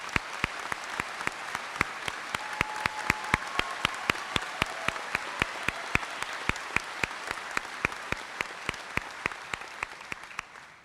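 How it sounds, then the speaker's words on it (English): Audience applause fills a high school commencement ceremony, steady dense clapping from a large crowd that holds for about ten seconds, then fades at the end. "And we'll give them a round of applause."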